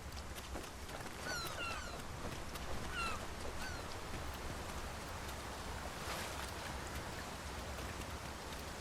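Rain falls in the video game Dragon's Dogma 2, a constant hiss of drops with faint chirping birds and an occasional sharp patter over it.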